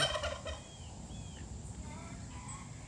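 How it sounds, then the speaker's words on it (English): Backyard turkeys, including a large tom, gobble in a quick rattling burst at the start, with fainter bird calls and steady outdoor background noise following. "I want y'all to look how big my turkeys have gotten."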